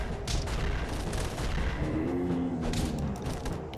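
Dense, sustained gunfire and booming blasts from a boss fight in Castle Crashers, loud and continuous with a brief tonal sweep mid-way.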